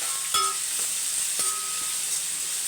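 Small onions and masala sauté in a pan for a prawn and fish fry, giving a steady soft sizzle with a few brief clinks of stirring, close and moderately quiet.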